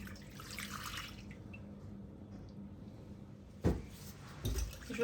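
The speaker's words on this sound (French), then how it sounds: "Je rajoute ensuite le lait tiède." Warm milk poured into a bowl holding baker's yeast and sugar, a soft liquid trickle and splash with light clinks of the bowl, close and fairly quiet.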